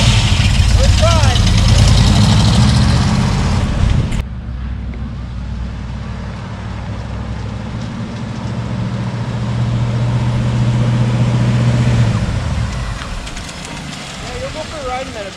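A 1961 Pontiac Laurentian with a 4-speed runs on its first test drive. Its engine hums steadily with a deep low rumble inside the car, and the loudness shifts sharply after a few seconds as the load changes.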